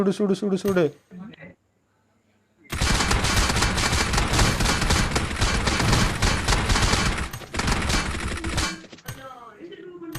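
Loud sustained automatic gunfire rattles for about six seconds in a PUBG Mobile match, with voices talking briefly before and after the burst.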